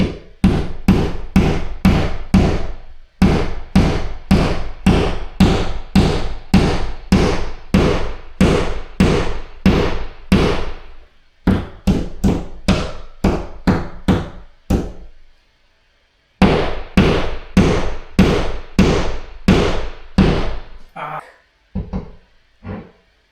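A hammer taps fasteners into a wall while a picture is being hung, partly into a stud. The sharp, close strikes come in rapid rhythmic runs, with short pauses and a longer silence between bursts, ending in a few sparse taps.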